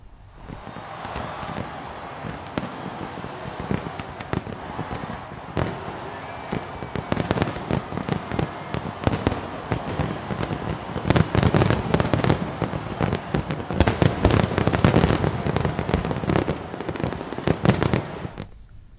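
New Year celebration fireworks pop and crackle in rapid bursts, growing denser and louder toward the middle and end, with a faint wash of wind and crowd noise beneath.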